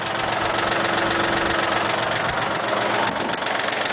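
A steady, rumbling Cub Cadet tractor diesel engine runs with its 540 PTO engaged at a constant idle-like pace, a mechanical whir layered on top, loud and close, with no talking.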